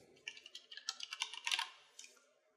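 Keys on a computer keyboard are tapped in a short burst of crisp, close clicks, roughly a dozen quick strokes and then a couple of stray taps as the typing trails off.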